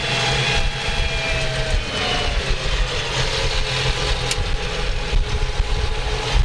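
A tractor engine drones steadily at around 1,400 RPM while plowing a field, a loud continuous rumbling roar heard close, with no one talking.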